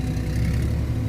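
A Sumitomo SH210F excavator's heavy diesel engine idles steadily with a smooth, low rumble, close by and unchanging throughout.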